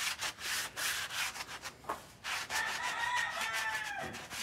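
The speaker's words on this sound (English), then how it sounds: "What we're doing is sanding edges on this and loading this kiln" Bisque pottery edges being sanded by hand beside a kiln being loaded, a steady scratchy rubbing in repeated strokes, close and fairly loud, with a brief squeaky scrape near the end and no talking.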